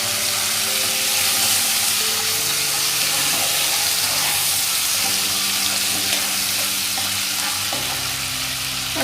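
A paste of onion, ginger, garlic and green chilli fries in oil, a loud, continuous close-up sizzle with stirring scrapes running throughout and no talk.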